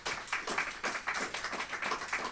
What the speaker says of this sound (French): Je pense qu'on peut vous applaudir pour cette contribution.